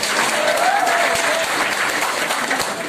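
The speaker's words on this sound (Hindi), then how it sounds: "ताली बजा दो एक बार" Sustained audience applause fills a hall at an anniversary celebration party, steady and dense throughout with faint voices mixed in.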